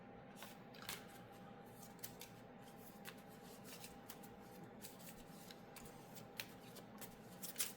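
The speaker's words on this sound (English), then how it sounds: "I have to shuffle the discard" Soft riffling and snapping of a Villainous board game discard pile being shuffled, with irregular flicks and taps over a low steady hum, close and quiet.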